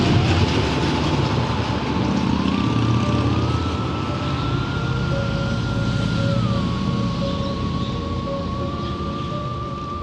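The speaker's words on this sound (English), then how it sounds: "That was another motorcycle that seemed they were going for a world record attempt at creating noise" A loud motorcycle passes close by, its engine roaring steadily across the whole stretch with a rising and falling drone, set against busy traffic noise.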